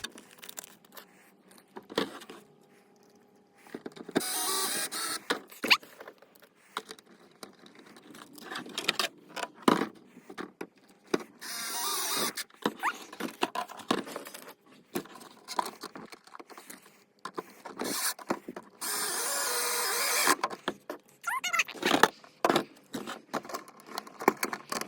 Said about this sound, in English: it's time to screw the skid plate down with the screws that you got with the skid plate